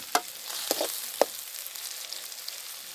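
Onion, garlic and curry leaves fry in a pot over a wood-fired stove with a soft, even sizzle, broken by three sharp clicks of a spoon in the first second and a half.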